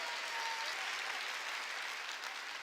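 Congregation at a Korean church sermon applauding together, a steady, dense wash of clapping that fills the whole moment at moderate distance, with no voices standing out.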